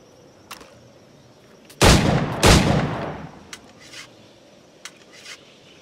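Two loud gunshots crack close together from a firearm in Assassin's Creed IV: Black Flag, each trailing into a rumbling decay, with a few faint clicks and knocks before and after.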